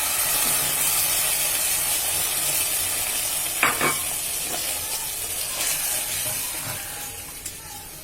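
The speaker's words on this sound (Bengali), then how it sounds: "এখন আমি টমেটো কেচাপটা ঢেলে দিব।" Browned beef sizzles steadily in a frying pan for a beef pan pizza as tomato ketchup is poured in, giving a constant close hiss with a few brief clicks and stirring scrapes, no talking.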